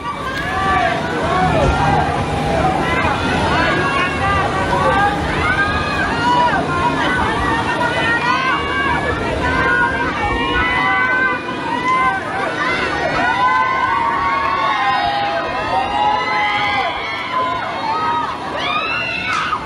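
A large crowd shouts and calls out together during a flood in Hat Yai, Thailand. Loud, continuous overlapping voices and cheering-like yells fill the scene without a break.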